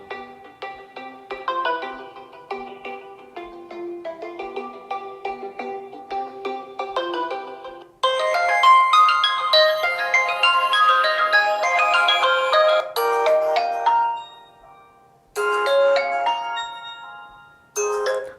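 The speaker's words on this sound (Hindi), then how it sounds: "यहाँ पर कुछ रिंगटोन्स को चला लेते हैं" Melodic electronic ringtones play one after another from a Realme GT 2 phone's small speaker, a soft chiming tune giving way to a brighter, busier jingle with short gaps.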